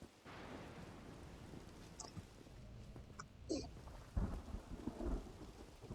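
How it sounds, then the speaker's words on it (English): Creepy thunder rumbles under steady rain in the horror video game The Medium, with a constant wash of rainfall broken by several low, booming rolls that grow stronger toward the end. "And the creepy thunder and the rain, I don't like this."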